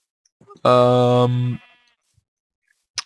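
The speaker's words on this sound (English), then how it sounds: "And he has a sheep farm, very appropriately." A single loud sheep bleat on a farm in a Minecraft-style blocky video game, one sustained nasal cry of about a second, with faint quieter sounds around it.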